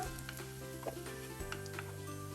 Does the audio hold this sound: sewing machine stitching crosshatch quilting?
no